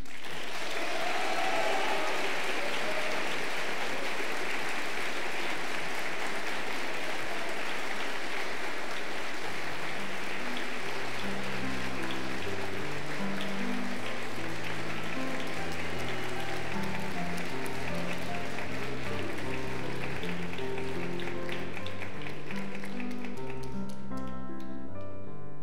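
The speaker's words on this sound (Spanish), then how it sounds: "le vamos a brindar un afectuoso aplauso al señor Mauricio Oyarzún Silva" Applause from the audience at a university graduation and degree ceremony, steady broadband clapping filling the hall for most of the stretch, with music or voices rising underneath in the second half before it fades out.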